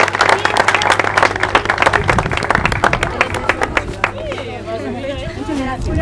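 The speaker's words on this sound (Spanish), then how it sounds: "Fuerte aplauso." Audience applause at an awards ceremony in Ecilda Paullier, distinct individual claps over crowd chatter, thinning out as a voice speaks over the hall near the end.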